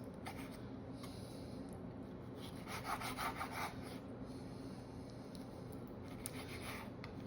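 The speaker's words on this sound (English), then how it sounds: "So I'm gonna give it some small slices." A knife cuts beef liver into thin slices on a board, giving soft wet scraping strokes that cluster in the middle of the stretch over a steady low room hum, fairly faint and with no talk.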